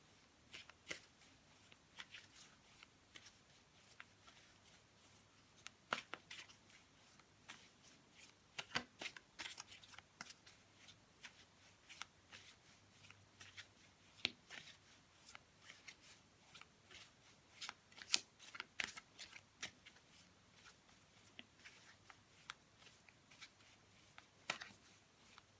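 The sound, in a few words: tarot cards being shuffled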